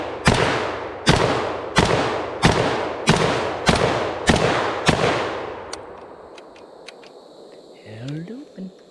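A FEG Dragunov-pattern rifle fires a magazine outdoors at dusk: eight loud, evenly spaced cracks about a second apart, each with a short rumbling echo, then quieter ambient noise and faint handling sounds.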